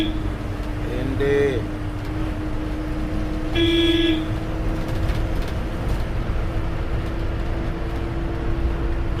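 Traffic on the Srisailam ghat road, heard from an Isuzu bus: engine drone runs throughout, with two distinct car horn blasts, one short and one longer, sounding nearby early on.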